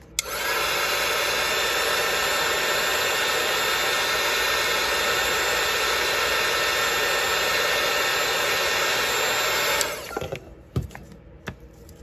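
A hair dryer blows steadily at close range for about ten seconds, drying rust paste on small model bits, then switches off, leaving faint handling clicks and taps.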